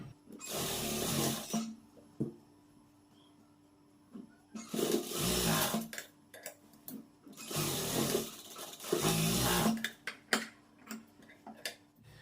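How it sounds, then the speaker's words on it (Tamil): A sewing machine stitches the shoulder seam of a blouse with a half-inch allowance, whirring in four close, rapid bursts of needle ticking separated by short quiet pauses. "சோல்டர்ல அரை இன்ச் தையல் விட்டுருக்கோம் அதை அப்படியே தையல் போட்டுக்கலாம்"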